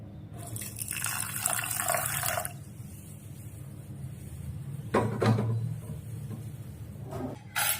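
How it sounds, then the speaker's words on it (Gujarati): Water poured into a bowl of salt, turmeric and asafoetida for dhokla, a running liquid pour followed by quieter splashes and a few bumps, heard close with no talk. "હવે એમાં આપણે પાણી નાખી અને બધું ઓગાળી લેવાનું છે."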